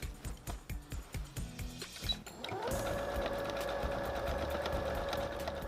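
A sewing machine topstitching around the edge of a double-sided blanket: a few short rhythmic bursts of stitching, then a steady, continuous mechanical whir that runs close and fairly loud to the end.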